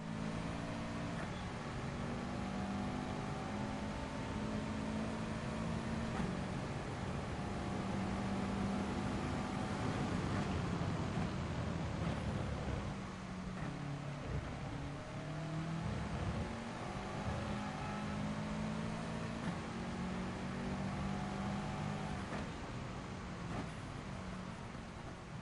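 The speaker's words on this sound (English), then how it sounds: "I'm not sure about the engine noise" A race car engine in the GT Sport video game drones steadily throughout, with audible gear changes and rising and falling revs, heard fairly faint and distant under a constant hiss, no one talking.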